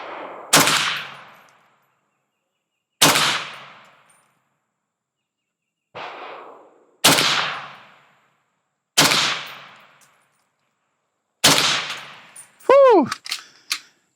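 A suppressed Kalashnikov USA AK-103 rifle fires six sharp shots, spaced a few seconds apart, at a target about 34 meters away. A faint metallic ping rings out right after the last shot.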